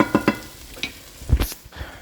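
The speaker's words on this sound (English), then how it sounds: "while this is working on sweating and sauteing" Food sizzles softly in a pan as it sweats and sautés. A few stirring scrapes and taps stand out over the low frying hiss, close by and with no voices.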